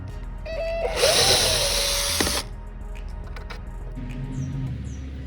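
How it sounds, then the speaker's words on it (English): Power drill backing out screws on a Toyota Camry side mirror: one loud, close whirring burst of about a second and a half, then quieter handling clicks and faint chirpy background noise. "I'm going to remove the two screws first."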